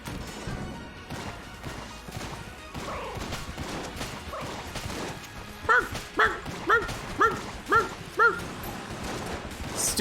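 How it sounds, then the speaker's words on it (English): In the video game Enter the Gungeon, a small dog yips in a quick run of about six evenly spaced barks, heard over a busy bed of game clatter and impacts. "Stupid yippity dog!"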